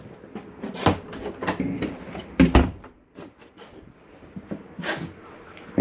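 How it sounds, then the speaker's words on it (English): The shower door in a 2021 Mesa Ridge 323RLS RV being closed and secured, with a few close knocks and sliding clatters followed by a latching clunk. "Make sure that shower door is secure."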